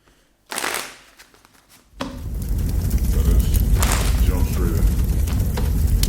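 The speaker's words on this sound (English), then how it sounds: "Let's get two more shuffles" Tarot cards being shuffled: a short riffle, a pause, then a longer run of rapid papery flicking and snapping, close and fairly loud.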